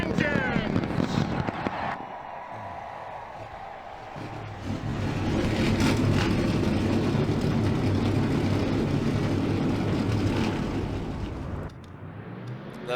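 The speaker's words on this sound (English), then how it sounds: "Drivers, start your engines!" Stock car engines in the NASCAR Racing 2003 video game rumble to life at Talladega Superspeedway, a brief rising burst followed by a sustained, loud, droning roar of the full field idling together.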